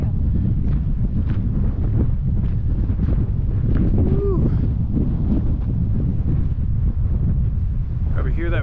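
Wind gusting across the microphone at a Mesa Verde cliff overlook, a loud continuous low roar with buffeting, under faint distant voices.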